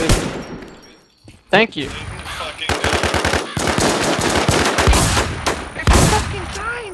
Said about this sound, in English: I'm about to shoot at the house.